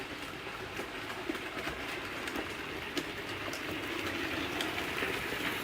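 A sound-fitted model railway locomotive numbered 1501, modelled on a Severn Valley Railway engine, runs with a soft continuous rumble and hiss, scattered faint clicks and rail clatter throughout, quiet and steady with no voices.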